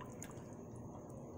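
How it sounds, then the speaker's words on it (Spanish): Toy Jurassic World submarine filling with water, giving faint, close dripping and soft bubbling trickles over a quiet steady background. "Ahí se ve cómo se está llenando de burbujitas."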